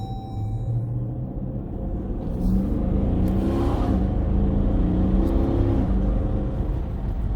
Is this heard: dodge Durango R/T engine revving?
yes